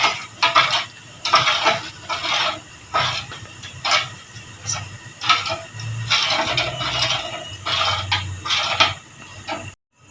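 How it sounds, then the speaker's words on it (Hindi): A spoon stirs lassi kadhi in a pot on the stove until it comes to a boil, giving repeated clinking scrapes against the metal in irregular bursts, fairly close and clear, with no talk over it. "इसका चमचा चलाते रहना, मसल चलाते जाए।"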